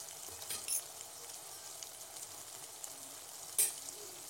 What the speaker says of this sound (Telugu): ఇవన్నీ బాగా కలిపేసుకోవాలి.